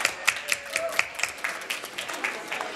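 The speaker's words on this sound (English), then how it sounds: "So big round of applause for Indie Expo Canada." Audience applause at Indie Expo Canada 2018, a trade expo panel event, with sharp, fairly close individual claps standing out over a lighter crowd clapping, uneven in rhythm and tapering slightly.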